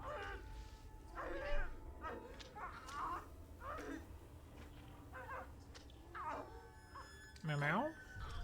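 A cat meows in the video game Ghostwire: Tokyo, with a single clear meow near the end standing out over game sounds and soft background ambience, and the player talks now and then.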